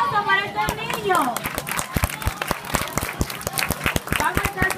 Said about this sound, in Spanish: ¡Un aplauso para estos niños!